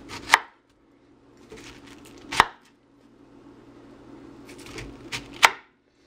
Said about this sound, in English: I'm going to go a little skinnier because it's a smaller pineapple. So I'm doing about 1/2 inch slices.